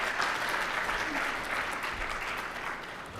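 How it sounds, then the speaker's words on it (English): Audience applause at a student employee of the year ceremony, a dense steady burst of many hands clapping in a room, fairly loud and tapering slightly near the end. "Give them a round of applause, please."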